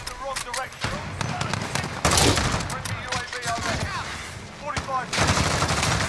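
Rapid bursts of automatic gunfire in Call of Duty Warzone crack out close and loud in repeated volleys, with players talking over the shooting.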